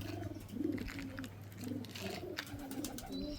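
Pigeons coo in soft, low, repeated phrases close by, several overlapping calls with a faint rustle between them.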